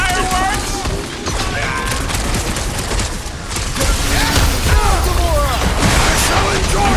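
Dense rapid explosions and gunfire during combat in Marvel's Guardians of the Galaxy game, loud and continuous with booms layered over constant crackle, while character voices call out over the chaos.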